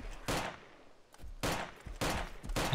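Gunfire in the video game DayZ cracks out in four loud, broad bursts at roughly half-second to one-second intervals, each with a brief rumbling decay.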